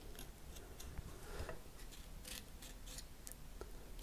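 Scissors snip through a paper template for a guitar headstock veneer, a faint run of small crisp cuts close by in a quiet space, with no voices.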